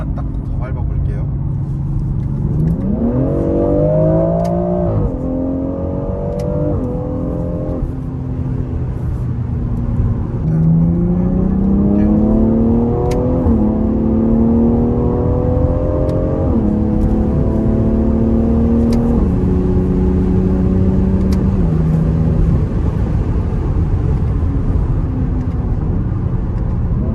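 A BMW X4 M with a 510-horsepower six-cylinder engine accelerates hard from inside the car. The exhaust note climbs in pitch through several gear changes, rasping and loud, while a voice may talk over it.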